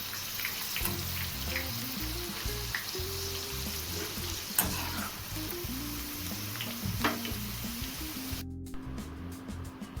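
Corn kernels frying in hot oil, a dense crackling sizzle with scattered pops, close and steady over a low background hum of a gas stove, with no talking.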